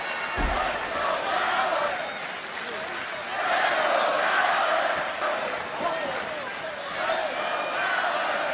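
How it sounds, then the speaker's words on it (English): Wrestling arena crowd at a WWE SmackDown event, a steady roar of cheering and chanting that swells midway and stays loud throughout, with a commentator talking over it. "Crowd trying to rally support for Finn Balor."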